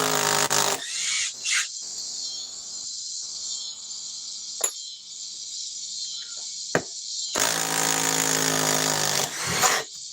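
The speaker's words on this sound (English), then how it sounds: "Let us try to remove these other fasteners." Cordless power drill backing fasteners out, loud high-pitched whirring bursts at the start and end with sharp clicks in between, close by and without talk.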